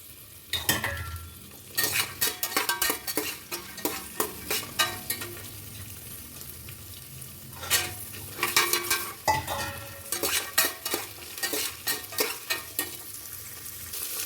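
Field beans (avarekalu) stir-fried in a pan for palav, a close, continuous sizzle broken by repeated bursts of spatula scraping and clattering against the metal pan, with no voices.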